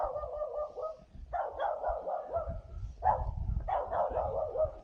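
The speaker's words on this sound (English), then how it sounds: "Now that dog sounds like it's being aggressive, but he knows us very well." A dog in Travanca de Lagos, a small village in central Portugal, barks in repeated bursts of gruff, mid-distance barks with short gaps between them, over a low background rumble.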